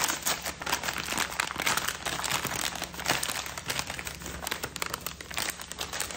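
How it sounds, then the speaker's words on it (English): Plastic packaging crinkles and rustles continuously as a package of hand-dyed yarn is opened, close-up and steady with sharp crackling bursts throughout. "Sorry for all the crinkles."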